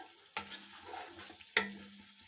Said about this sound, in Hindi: अब प्याजों को इसमें हम फ्राई करेंगे